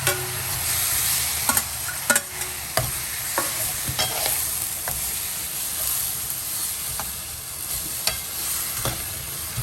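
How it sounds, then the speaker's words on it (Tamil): Half a kilo of tomatoes sautéing in a pan for tomato soup, a steady low sizzle broken by repeated scraping stir strokes, close and moderately loud with no voices. "அரை கிலோ தக்காளி எடுத்து போட்டு நல்லா வணக்கிக்கோங்க"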